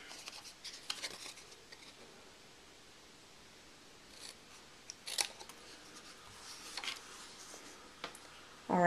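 Scissors cut paper for a handmade card, heard as a few faint, scattered snips and rustles against a quiet room background.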